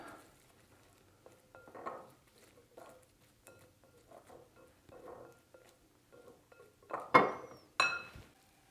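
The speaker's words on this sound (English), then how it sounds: "we're just going to hit them with just a little bit more of the olive oil and then just get that nice and mixed around" Shallots are tossed with olive oil in a bowl, making faint soft wet patters and light scrapes, then a couple of louder clinks of a utensil against the dish near the end.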